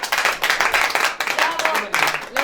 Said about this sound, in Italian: Un applauso a Salvatore.